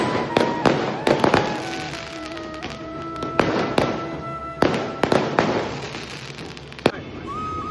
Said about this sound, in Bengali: আমাদের পাড়ায় একটা বিয়ে হচ্ছিল, আর সেইখানে কি রকমের বোম ফাটানো হয়েছে দেখো